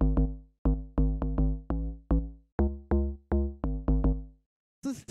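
Two-layer deep house bass pulses in short, punchy plucked notes following a chord progression, around fourteen hits in an uneven groove, dry and alone, ending with a brief noisy burst.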